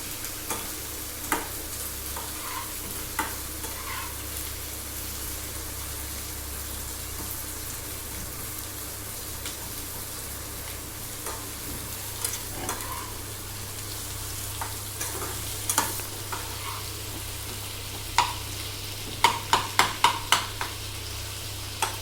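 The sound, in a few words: onion being stir-fried in a pan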